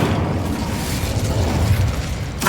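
Incendio fire spell cast in the Hogwarts Legacy video game, a dense roaring burst of flame and explosive rumble that holds steady for a couple of seconds, ending in a sharp crackle.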